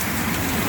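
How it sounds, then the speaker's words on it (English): Rain with some wind in a Central Florida summer hailstorm makes a loud, dense, unbroken hiss throughout the brief moment. "This some rain, a little bit of wind"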